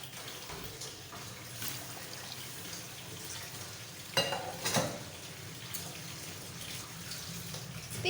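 Water boils around fried potatoes in a pot for aloo tahri pulao, a soft steady bubbling hiss at close range with a couple of brief louder splashes or stirs midway and no talking.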